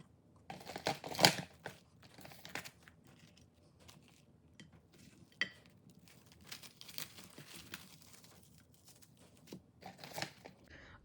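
Crinkling and rustling of wrapping material around a fragile homemade granola bar, in soft intermittent bursts with a few louder crackles, close and quiet, no talking.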